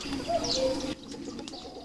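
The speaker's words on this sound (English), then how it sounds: "We've got a very loud cuckoo that's in the forest." A cuckoo calls from a forest beside a farm in Portugal, giving a short, soft cooing note over faint outdoor background before it drops away.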